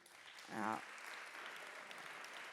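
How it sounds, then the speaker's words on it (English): Audience applause after a museum talk and performance event, a faint, even spread of clapping throughout, briefly covered by a short spoken voice near the start. "a big round of applause again to you"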